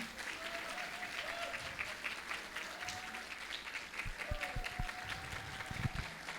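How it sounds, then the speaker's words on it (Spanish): A church congregation applauds a baptism with a steady wash of clapping, while some voices and cheers carry underneath and a few heavier thumps come near the end. "Un aplauso para Jason, que está por aquí."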